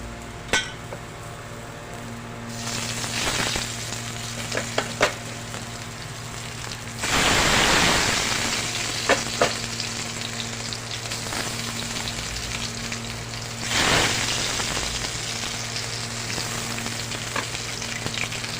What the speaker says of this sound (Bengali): আমি এটা খুব সামান্য অল্প অল্প তেলে এটা আমি একটু ভাজা ভাজা করে নেবো